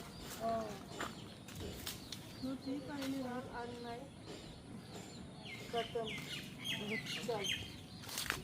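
A rooster clucking and squawking nearby in repeated short bursts, with other bird calls and people talking over it.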